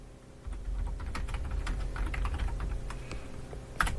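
A prompt for ChatGPT typed on a computer keyboard: a quick, steady run of close key clicks and taps over a low room hum, ending in one slightly louder keystroke, with no talking.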